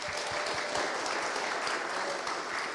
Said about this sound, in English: I'm wondering if we can just maybe just give a quick hand to Carol Ann and everyone who donated.